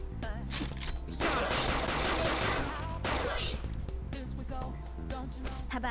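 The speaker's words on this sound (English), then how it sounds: "You can continue shooting until you run out of ammunition." Rapid gunfire from the player's firearm in the video game Persona 5 Royal, a sustained burst of shots layered over loud game music, with a brief pause midway before the firing resumes.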